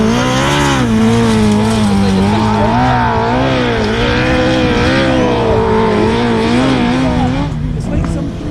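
Autograss race cars tearing around a dusty grass track at a Scottish club meeting, engines roaring loud and continuous with wavering revs throughout, crowd noise and chatter mixed underneath.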